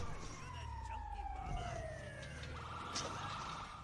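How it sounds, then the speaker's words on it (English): An ambulance siren in GTA wails with a sweeping, falling tone over engine rumble and faint background voices, steady and moderately loud throughout. "Oh god, here's the ambulance."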